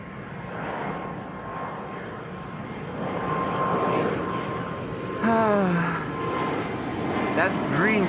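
Air Baltic jet in Austrian flag livery departing Amsterdam Schiphol for Vilnius, a steady broad engine roar held throughout with people talking over it in the last few seconds.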